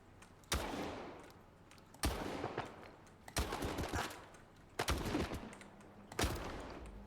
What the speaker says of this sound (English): I think I whiffed 2 of those shots.